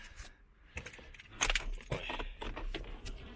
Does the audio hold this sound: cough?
no